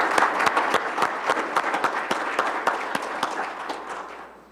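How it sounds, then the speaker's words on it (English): Audience at a board of education meeting applauding, a dense burst of many hands clapping with sharp individual claps on top, fading out toward the end. "give Tim a round of applause."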